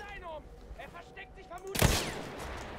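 A short burst of machine-gun fire in the video game Battlefield 1 cracks out near the end, loud and sudden after a stretch of voices talking.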